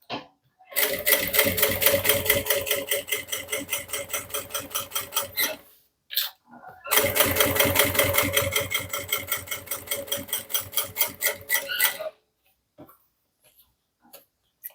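A sewing machine stitches a handbag in two long continuous runs of rapid mechanical chatter, each roughly five seconds, separated by a short pause and a brief burst, then stopping to near silence with faint handling clicks.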